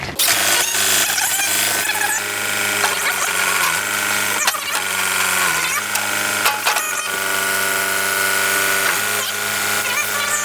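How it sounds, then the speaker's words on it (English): A steady mechanical whine and hum of a running fuel pump on a John Deere 110 backhoe, loud and continuous, with a few clicks and knocks on top. "you can hear that fuel pump there, right?"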